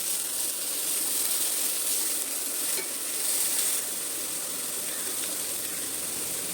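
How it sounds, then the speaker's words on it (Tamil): Grated carrot roasting in ghee in a pan gives a steady, close sizzle and hiss, with soft stirring scrapes running through it and no voices. "கீலே நல்லா ரோஸ்ட் ஆகி வரட்டும்."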